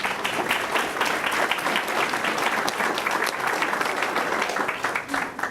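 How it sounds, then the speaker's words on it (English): An audience at a school board meeting claps steadily and loudly for a middle school band, a dense, even wash of applause sustained for several seconds. "Are your hands hurting from all this clapping?"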